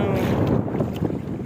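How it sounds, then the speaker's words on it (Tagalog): Strong wind at sea buffets a fishing boat, producing loud, blustery gusts of wind noise that roar continuously and close, with no break for the whole moment. "Ito yung lakas ng hangin na."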